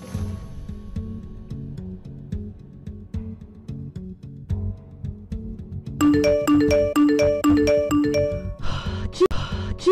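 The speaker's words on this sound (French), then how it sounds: "c'est pas que j'entends son téléphone sonner encore et encore" A phone ringtone plays a repeating melodic tune over a steady rhythmic music bed, turning louder and brighter midway with a regular pulse of ringing tones.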